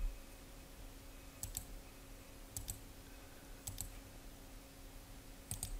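Computer mouse clicks during embroidery digitizing of a satin-stitch leaf, heard as four short paired clicks spaced about a second apart over a steady low electrical hum, fairly faint and with no talking.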